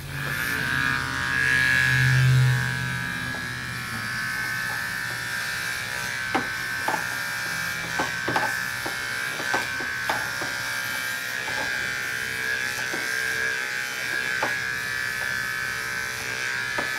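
An electric clipper fitted with a quarter-inch guard buzzes continuously while trimming an aggressive dog's fur, a close steady hum with small clicks and bumps as the blades move through the coat.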